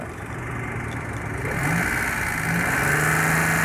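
A Daewoo Matiz engine idling steadily up close, a smooth continuous running hum with a slight rise in revs partway through, with no talking over it.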